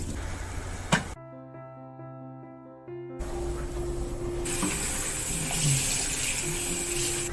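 Running water pours over conch meat as it is rinsed clean, a steady splashing gush that is briefly interrupted by a tonal electronic hum before the flow grows stronger again.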